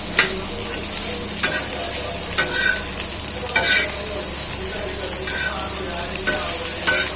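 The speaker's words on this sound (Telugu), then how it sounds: "ఇప్పుడు మనము రైస్ చేసుకుంది కొంచెం ఎగ్ రైస్ మంచిగా మిక్స్ చేసుకొని ఒక 2 నిమిషాలు వేడి చేసుకుందాం" Egg fried rice stirred and fried in a hot pan, a steady loud sizzle broken by repeated scraping spatula strokes at an irregular rhythm, close up with no voices.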